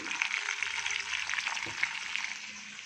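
Mustard seeds, chana dal, urad dal, cumin, fenugreek, garlic and curry leaves fry in three spoons of hot oil, a steady bright sizzle with small crackles running throughout, moderately close and without any talk.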